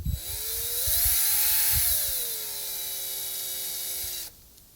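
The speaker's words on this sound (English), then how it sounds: "So I'm drilling it just enough for that head to go into the bamboo." A small power drill with a small bit whines steadily as it bores shallowly into bamboo, its pitch rising briefly and then settling before it stops abruptly near the end.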